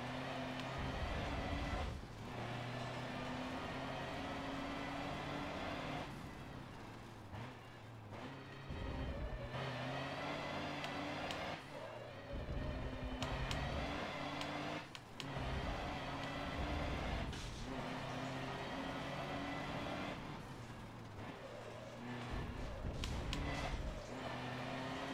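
Car engine from the Forza Motorsport 7 racing game, a steady droning motor with a boxy, truck-cab echo that keeps running throughout, with brief dips and gear-shift breaks along the way.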